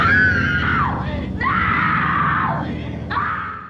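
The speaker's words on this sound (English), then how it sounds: "I feel like she's been screaming for the past 30 minutes." A woman screams in the 1974 horror film The Texas Chainsaw Massacre, three long, loud, shrill wails one after another, each sliding down in pitch with short gasping breaks between them.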